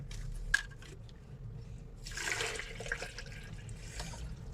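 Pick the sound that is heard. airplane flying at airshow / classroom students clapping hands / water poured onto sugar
water poured onto sugar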